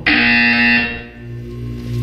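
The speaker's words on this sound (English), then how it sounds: "When you hear the buzzer, look up at the ceiling." A loud electronic buzzer sounds abruptly and holds a harsh tone, dropping off after under a second, leaving a lower droning hum underneath.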